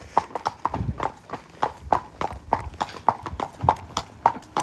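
Horses hacking through Cartmel village, hooves clip-clopping on the road in a steady, even walking rhythm, close and distinct, with faint voices in the background.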